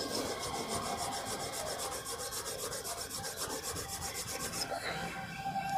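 A lotus seed is rubbed against a rough surface to wear down its hard coat, making quick, even scraping strokes in a steady rhythm. The rasping is close and continuous, with no talking.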